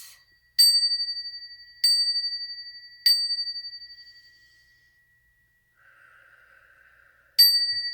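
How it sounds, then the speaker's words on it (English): A small bell is struck four times with clear, ringing tones, each strike decaying slowly over about a second, with long quiet gaps between them and a faint low hum partway through. "I'm going to ring a bell."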